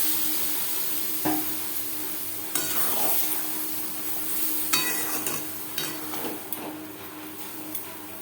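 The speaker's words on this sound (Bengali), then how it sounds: "লালচে করে পেঁয়াজ ভাজা হয়ে গেছে এবার দিয়ে দেবো চিচিংড়া আর ডাল" Chopped snake gourd and masoor lentils tipped into a pan of onions fried reddish, giving a low steady sizzle with several sharp clatters and scrapes of stirring, fairly quiet and with no talking.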